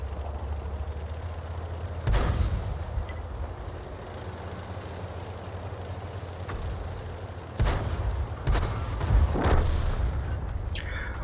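Artillery fire and explosions from World of Tanks gameplay, with a sharp boom near the start and a cluster of several loud blasts later, heard over a low rumbling engine and wind-like drone.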